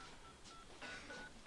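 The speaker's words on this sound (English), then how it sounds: "that's your phone again" Faint electronic telephone tones beep in a short, evenly spaced sequence like keypad dialing, heard quietly against low background hiss.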